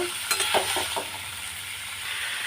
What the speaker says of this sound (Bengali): পনিরটা আমি ভালো করে ভেজে নেব